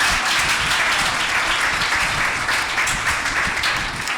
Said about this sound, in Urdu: یسوع کے لیے زوردار تالیاں بجائیں